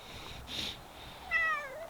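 A single cat meow rises and falls near the end, close by, outside an RV in winter, over quiet background noise with a soft rustle earlier.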